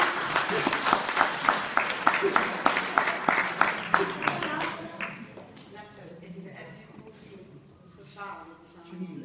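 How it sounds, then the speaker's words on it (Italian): An audience at a 2014 book and poetry reading breaks into rhythmic applause. The clapping is fairly close and lasts about five seconds, then fades as a speaker starts talking. "Applausi."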